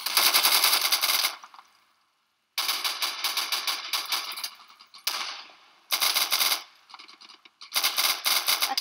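Bursts of automatic gunfire in the video game Insurgency during a firefight, loud rapid-fire volleys in several separate strings broken by short pauses, with no talking.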